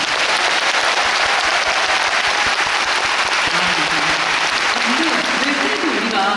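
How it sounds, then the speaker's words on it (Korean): Loud, sustained applause from a classical concert audience at an opera commentary evening of Verdi and Puccini, a thick uninterrupted roar of many hands with crowd noise and a voice faintly underneath. "여러분들께 제가 박수 한번 드립니다"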